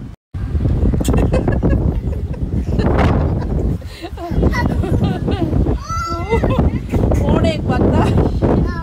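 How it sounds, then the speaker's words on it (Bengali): Strong gusting wind ahead of a storm, strong enough to topple a bamboo tower, roars and buffets the microphone loudly and almost without pause, with rough rumbling bursts throughout. "বাতাস আল্লাহ জানে ঝড়ের বাতাস কিনা,"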